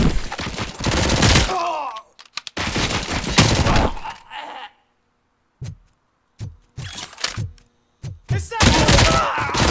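Gunfire in the RoboCop: Rogue City video game comes in loud, dense bursts separated by short silences, then choppier single shots and short volleys near the end, with a brief voice exclamation in between.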